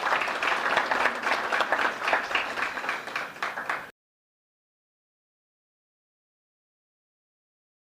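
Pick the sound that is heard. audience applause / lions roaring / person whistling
audience applause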